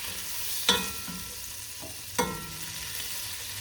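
Garlic sizzles gently in melted butter in a soup pot, with two sharp scraping knocks of a spoon against the pot's side over a steady low frying hiss, no voices.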